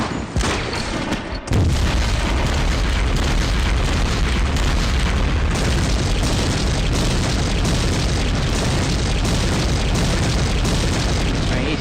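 Mortar shells bursting in Steel Panthers: World at War, a loud booming onset followed by a dense, continuous roll of overlapping blasts and rumble that stays heavy for the whole stretch.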